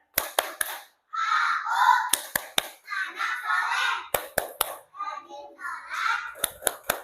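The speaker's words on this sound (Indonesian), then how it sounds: "Tepuk anak soleh." Children perform the tepuk anak soleh clapping chant in a classroom, sharp clusters of hand claps in a set rhythm alternating with sung and chanted young voices.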